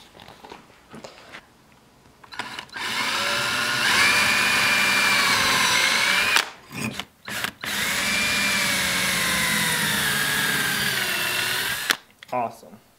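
Power drill whirring in two long sustained bursts while pre-drilling wood, loud and close, with brief pauses and quiet moments before and after.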